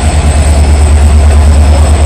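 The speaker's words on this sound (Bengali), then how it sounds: "সাতরাগাছি যাবে WP4 লোকোমোটিভের সাথে" Steady, loud rumble of a local train behind a WP4 locomotive heading to Santragachi, with a low engine drone and a continuous rolling clatter, close and unbroken, no voices.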